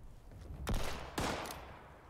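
Laser rifle fire in Fallout 76, two sharp zapping shots about half a second apart, each with a short bright burst and a quick fade, moderately close.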